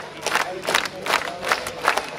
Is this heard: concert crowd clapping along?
yes